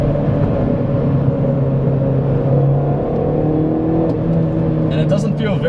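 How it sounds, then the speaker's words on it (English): A 2013 Mini Cooper pulls hard in second gear with its turbo spooling: a sustained engine drone with rising tonal whine near the listener, and a person talks over it. "second gear is pretty punchy"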